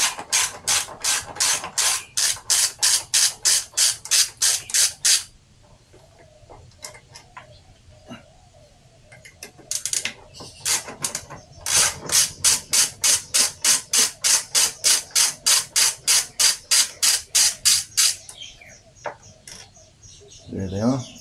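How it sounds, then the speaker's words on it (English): An Allen key socket wrench ratchets rapidly on bolts of a Royal Enfield motorcycle, with two long bursts of quick, even clicking separated by a quieter stretch of small metallic handling sounds, all close up. "an Allen key socket wrench, and we're going to take off the bottom two bolts, not the top two for now"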